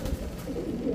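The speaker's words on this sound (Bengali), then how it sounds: "ছাড়েন দেখি কবুতরগুলো।" Giribaz high-flyer pigeons coo softly in a low, steady murmur, close by and with no talk.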